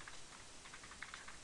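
Typing on a computer keyboard: a quick run of soft, irregular key clicks, faint and close, with no voice over it.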